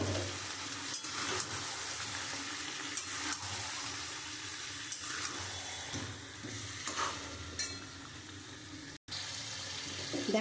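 Fried potatoes go into a pan of chicken curry cooking in oil, setting off a steady close sizzle with soft stirring scrapes and brief bumps throughout, then a momentary dropout near the end.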